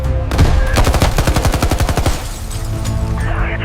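Gunfire in an army-versus-police film scene: rapid bursts of automatic weapon fire, loud and close, in a fast rhythmic volley that fades into reverberant background noise.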